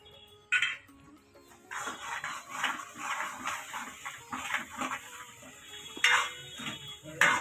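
A spoon scrapes and clinks against a pot while kadhi is stirred, with irregular metallic knocks and swishes close by and a few sharper clatters.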